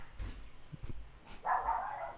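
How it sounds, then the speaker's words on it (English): A dog barks a few times at a distance, then one sustained, louder bark or yelp stands out near the end, with a quiet background. "Now she's barking."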